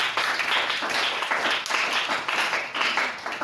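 A church congregation claps in acclamation, a sustained wash of many hands with a loose rhythmic pulse, fairly close and continuous throughout.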